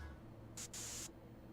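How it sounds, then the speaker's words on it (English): Cologne spray from the video game Alpha's Adventure: two quick, sharp hissing spritzes, the second longer, against a quiet game background. "What, did I just spray her with cologne?"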